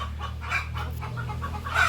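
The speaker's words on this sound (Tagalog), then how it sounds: "Yan naman po yung mga manok ng ating kapitbahay, ng mga sisiw." Neighbors' chickens and chicks cluck close by in short repeated calls, with thin high peeps over a low steady background hum.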